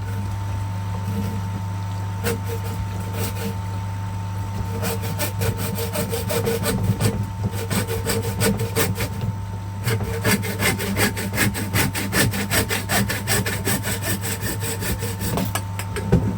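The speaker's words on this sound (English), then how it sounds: "So, just a normal handsaw." A normal handsaw cuts through pipe near a koi pond heat pump install, rasping in quickening back-and-forth strokes, close and loud over a low steady hum.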